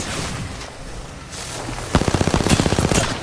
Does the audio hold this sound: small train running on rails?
no